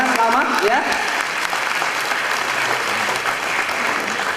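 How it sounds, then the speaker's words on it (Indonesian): Audience applause fills a company meeting honoring agency managers, a dense steady wash of clapping throughout, with a brief voice at the very start. "Dan tepuk tangan untuk mereka di sana, ya."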